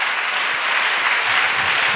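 Dense, steady applause from a worshipping congregation at a Christian gathering, loud and continuous for about two seconds with no break.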